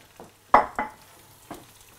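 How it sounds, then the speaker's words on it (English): Squid tossed into a hot pan with browned chorizo and onion gives a few sharp sizzling bursts as it lands and is stirred, short loud flares fading between, with no talk. "It's all stirred around and takes on all the chorizo juices, all those lovely yellow oily juices"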